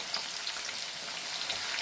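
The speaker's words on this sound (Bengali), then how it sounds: "আলুটা একটু ভাজা ভাজা হওয়ার সাথে সাথে আমি তার মধ্যে টমেটোটা দিয়ে দেব।" Potatoes sizzle in a pan with a steady crackling hiss and a few faint pops, continuous and fairly quiet, with no voices.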